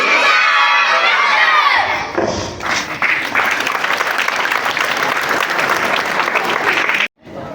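Crowd at a religious seminar held in a Tarnol restaurant roaring back in unison after a single voice's call, a dense loud shout that holds for several seconds before cutting off abruptly.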